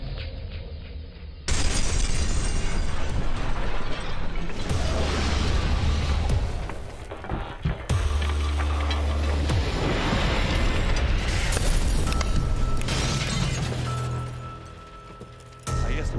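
A natural gas explosion set off during a gas equipment safety test: a loud, sustained roaring blast with crashing, shattering noise that fills most of the clip, surging in several waves before trailing off.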